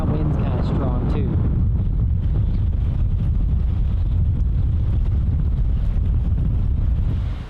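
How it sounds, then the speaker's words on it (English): Strong wind blasting across open water aboard a boat among whitecaps, a loud continuous roar of buffeting wind noise on the microphone with rushing water beneath, close and unbroken throughout. "The wind that we wanted to move and get away from has definitely arrived."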